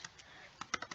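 Light keystrokes on a computer keyboard while code is typed for a hangman game, with a few scattered taps, then a quick cluster of close clicks toward the end, quiet and near.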